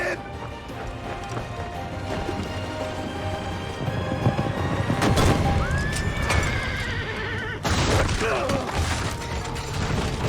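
Horses neigh and hooves clatter during a carriage chase in Assassin's Creed, with rattling wheels and crashing impacts forming a busy, loud game soundscape.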